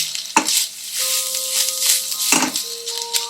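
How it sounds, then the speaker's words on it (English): Moringa vegetable bhaji being gently stir-fried in a pan, a steady close sizzle broken by a few scraping strokes of the spatula. "Gently stir fry for about 7 to 10 minutes."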